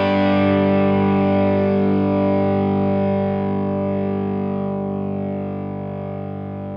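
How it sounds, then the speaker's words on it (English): A single guitar chord played through an amp sim plugin rings out with distorted tone and slowly fades over several seconds, a faint digital warble and aliasing creeping in as the note dies away. "It's when the note is dying out that you start to hear this sort of warble and this sort of aliasing."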